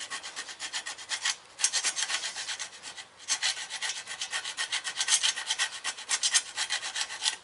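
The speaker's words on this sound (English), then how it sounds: "I'm going to go ahead and scrape it off anyway." Metal scraped by hand on a broken floor jack leg, a steady series of rapid rasping strokes with two brief pauses, close and fairly quiet, with no talking.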